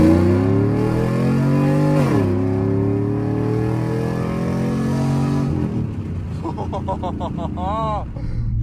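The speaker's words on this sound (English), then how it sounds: "First full major four-wheel drive launch." A four-wheel drive car launching hard, the engine roaring close and loud as revs climb, dip at gear changes and climb again, then easing off into a lower idle with lighter revving blips.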